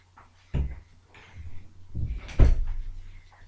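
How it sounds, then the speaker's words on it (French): A door being pushed shut indoors by a woman who has just come back, heard as a few close, dull thumps and knocks over a quiet room, with a louder clunk near the end. "je vais juste fermer ma porte, j'ai oublié de la fermer"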